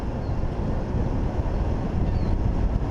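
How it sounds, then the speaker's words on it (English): Steady, rough wind buffets the microphone while a Golden Motor electric bike climbs uphill at full throttle with a heavy rider. Almost no motor sound comes through the continuous gusting roar. "I don't hear anything, just the wind."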